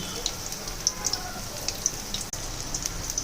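Paatshag (jute leaf) pakoras frying in hot oil, a close crackling sizzle made of scattered sharp pops over a soft steady hiss, with no speech.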